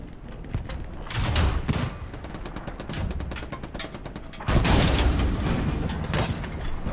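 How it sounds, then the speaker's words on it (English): Tank cannon and machine gun fire in a tank combat video game, a rapid regular rattle of shots with heavier booms cutting in, loud and close, with no voices. "Keep shooting."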